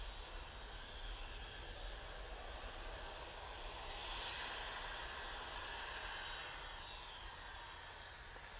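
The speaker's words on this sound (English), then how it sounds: "We've got Cessna Citation over here as well. That's going to be going off to USL. Cessna Citation XLS." Cessna Citation XLS business jet engines at Manchester Airport produce a faint, distant, steady rushing hum that swells slightly midway and continues without break.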